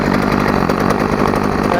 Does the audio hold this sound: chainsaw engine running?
yes